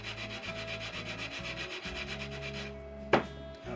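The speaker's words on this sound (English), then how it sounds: "I just give this a sand to get rid of the" Sanding off surface glue on an FP-202 model aircraft part, with steady rhythmic rubbing strokes close up, followed by a sharp tap and a pause.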